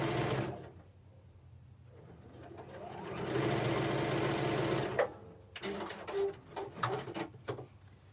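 A sewing machine stitches fabric pieces for a small Valentine's heart project. It starts with a brief buzz, then runs in a sustained whirring burst before stopping, followed by quieter clicks and handling noises.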